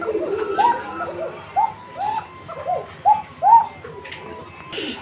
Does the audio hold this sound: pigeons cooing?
yes